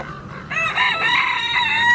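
Chickens clucking and crowing close by on a farm, a rooster-like call rising over the flock after a short pause, loud and alone with no speech.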